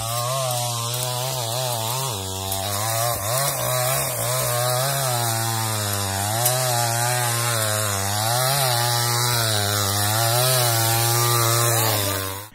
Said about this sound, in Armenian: աշխատող բենզասղոցի ձայն էին լսել